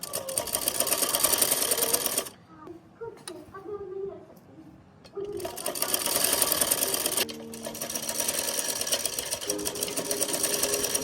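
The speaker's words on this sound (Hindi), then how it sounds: "और इधर ही मैं सिलाई लगाऊंगी।" A sewing machine stitches the waistband of a farshi shalwar in two long, loud bursts of rapid, even whirring, with a quieter pause between them where someone speaks briefly.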